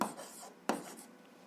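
Pen or pencil writing out an answer to a seventh-grade algebra exercise, a soft scratchy stroke followed by a sharper tap and brief scratching, close and quiet with no talking.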